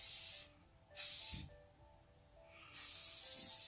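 Hairspray hisses through hair in three short, close bursts separated by quiet pauses, with no one speaking.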